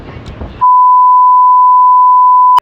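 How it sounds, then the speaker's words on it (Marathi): A single loud, steady electronic beep holds a pure tone for about two seconds after a brief burst of talk, then cuts off abruptly. "बीप साऊंड"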